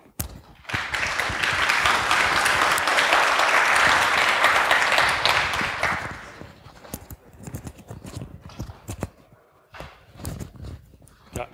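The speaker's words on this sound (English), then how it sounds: "Give a big round of applause." An audience applauds for a speaker at an open source management talk, a dense burst of clapping for about five seconds before fading into scattered claps and small room noises.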